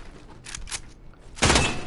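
Gunfire in a team-based shooter video game: a couple of short bursts early on, then a louder, sustained volley near the end, heard alone without talk.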